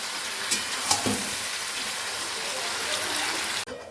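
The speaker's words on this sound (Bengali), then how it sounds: "তো সয়া সস আর টমেটো কেচাপ যেটা সেটা দিয়ে দিলাম এবার ভালো করে নাড়িয়ে নেব" Soy sauce and tomato ketchup sizzle in a hot frying pan as they are stirred, a loud continuous frying hiss with a few scraping knocks before it cuts off abruptly near the end.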